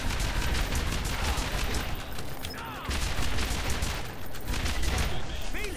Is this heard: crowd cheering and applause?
no